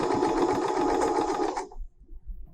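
A longarm quilting sewing machine stitches a zigzag in a fast, steady mechanical whir with rapid needle beats, stopping abruptly after about a second and a half into near quiet.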